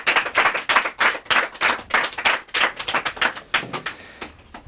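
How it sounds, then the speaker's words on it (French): An audience at a French mentalist stage show applauds with steady clapping from many hands, loud and close, tapering slightly toward the end, with no talking over it. "Vous pouvez applaudir bien fort Valérie, s'il vous plaît."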